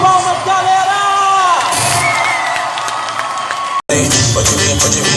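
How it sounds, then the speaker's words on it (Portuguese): A live show audience cheers loudly and applauds in a thick, continuous roar of clapping and shouting, broken by a brief cut before the crowd noise resumes. "Salva de palmas, galera!"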